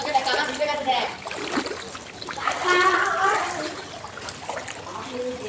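Splashing and trickling water from someone walking through a flooded Kolkata street near Rammohan Sarani, steady and close, with people talking over it throughout.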